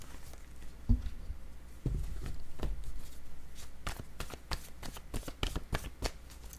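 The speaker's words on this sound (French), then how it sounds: "Je vais y aller avec des cartes mots pour chacune d'elles." Word cards being shuffled and drawn by hand, a series of crisp papery flicks and snaps, some isolated and some in quick bursts, close up with no talking.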